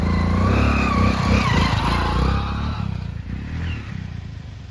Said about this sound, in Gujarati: બાઇક ચલાવતા નીકળ્યો